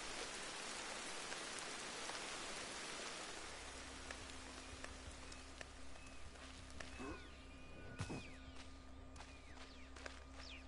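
Steady, dense rain hisses in Ancestors: The Humankind Odyssey, then tapers off into a quieter low ambience with scattered chirps and faint calls.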